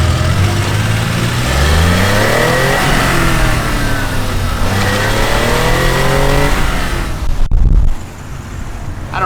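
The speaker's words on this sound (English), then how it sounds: "my tires are so bald in the K-Truck, it actually does rolling burnouts" Kei truck with bald tires spinning on a wet road, engine revving loud and close with rising and falling pitch sweeps, then a sharp thud and the engine dropping to a lower idle near the end.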